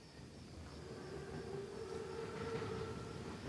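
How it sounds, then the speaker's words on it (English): Armored train approaching in the World War II shooter Call of Duty: WWII, a low, steady rolling rumble with faint tonal hum, moderately quiet and gradually swelling as it draws nearer, no speech over it. "Train's right on time. Biggest train I've ever seen."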